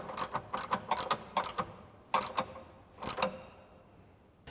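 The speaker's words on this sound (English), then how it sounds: "I'm going to take my 15 millimeter on my ratchet, tighten this one up, and tighten the front one" A ratchet with a 15 mm socket tightens a bracket bolt on a 2021-2023 Bronco, giving several bursts of quick, crisp clicking strokes with short pauses between them, close and fairly quiet.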